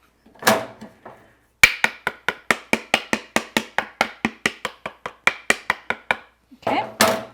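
Firm, even taps on an upside-down mold for hot chocolate bombs, about twenty sharp knocks in a quick steady rhythm, close and loud. Brief bursts of talk come before and after.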